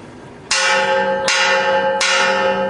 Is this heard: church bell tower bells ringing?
yes